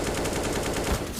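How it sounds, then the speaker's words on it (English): Rapid automatic gunfire from a player on a ladder in Counter-Strike, a fast even burst of sharp shots, loud and close, without a pause. "He's shooting on the ladder."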